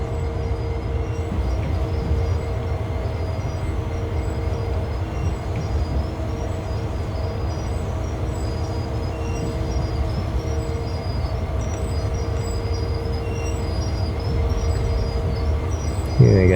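A freight train rolls along the rails on Sherman Hill in Train Sim World 2, a steady low rumble with tonal engine hum and a brief squeal near the end, continuous and fairly close.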